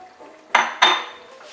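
Beans being stirred together in a pot for chili, with two distinct scraping clinks of a utensil against the pot over a quiet background.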